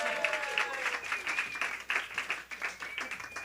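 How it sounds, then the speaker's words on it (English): An audience at a talk on the votes-for-women movement claps and applauds steadily, a dense patter of many hands at moderate distance, with a cheer or voice rising briefly within it. "Yeah, that's the applause."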